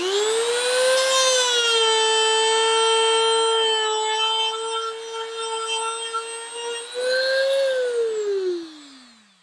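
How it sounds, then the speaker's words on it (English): A Dremel rotary tool spins a buffer polishing wheel pressed against 100 grit sandpaper. Its loud, steady high whine holds for several seconds, rises briefly in pitch, then winds down to silence. "I'm just going to turn on the buffer and then touch it to this, and that's going to help get it perfectly round"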